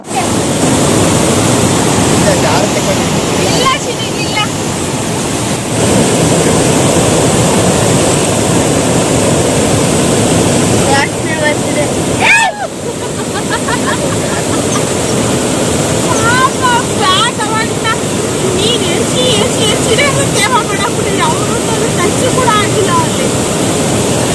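The Bhadra river rushes steadily and loudly with broadband water noise across the whole stretch, while voices talk intermittently over it.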